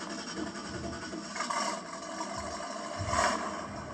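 A Ford 460 big block V8 runs steadily at idle, with a continuous rumbling drone and a brief rise in engine noise near the end as throttle is applied.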